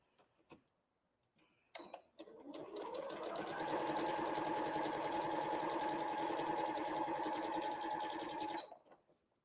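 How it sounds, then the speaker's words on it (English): A sewing machine chain-piecing quilt blocks, starting after a few handling clicks and then running steadily at even speed for several seconds before stopping, close and alone. "I'm just chain piecing all of these to be quick"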